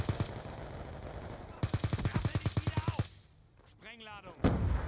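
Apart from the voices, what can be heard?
shotgun gunfire in Call of Duty Black Ops 2 video game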